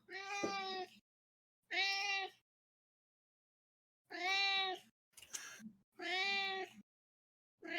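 A pet cat meows four or five times, each cry drawn out and near, separated by pauses, with a short scuffling sound between the later meows.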